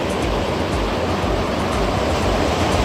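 Stormy sea waves roll in as a loud, continuous broadband roar with no break, heard up close and without speech.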